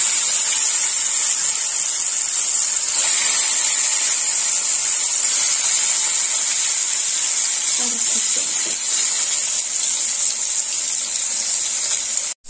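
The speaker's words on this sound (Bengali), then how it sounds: "এবার আমি ভেজে নেব। দিয়ে দিলাম কাতলা মাছ" A steady, bright sizzling hiss of salted, turmeric-coated katla fish frying in hot oil continues close by, with a few faint clinks partway through.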